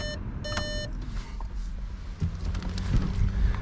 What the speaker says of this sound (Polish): Będzie nam pikało.